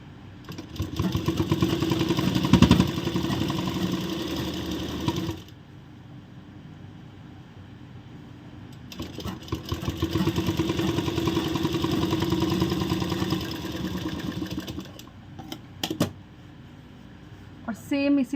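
A sewing machine stitches the folded bottom hem of a ladies' pant, whirring in two long runs of steady mechanical hum separated by a quieter pause, with a few brief clicks near the end.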